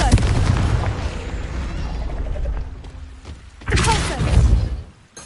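A Confringo blasting spell in the video game Hogwarts Legacy: a rumbling, crackling explosion up front that fades into a low roar, then a second burst of blast and debris near the end, loud and close.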